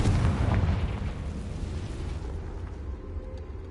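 A Confringo fire spell detonates in the Hogwarts Legacy video game, a deep booming blast that hits hard at the start and then rumbles away over a few seconds, with no voices.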